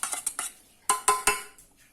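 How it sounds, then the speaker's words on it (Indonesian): Melted margarine being stirred together with oil for a steamed pandan sponge cake: a series of sharp, close clinks of a utensil against a bowl in uneven bursts, some ringing briefly, with no voices. "setelah margarin kita cairkan, maka campur dengan minyaknya ya. Kemudian ini kita aduk ya."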